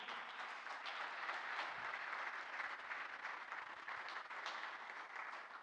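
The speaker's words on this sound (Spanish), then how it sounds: "denle un fuerte aplauso al Señor" A church congregation applauds during a morning service, a dense, sustained wash of clapping heard from a distance at low volume, with no talking over it.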